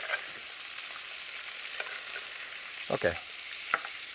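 Macadamia nuts sauté in a pan with a soft, continuous sizzle and a few quiet stirring scrapes; a voice speaks briefly once.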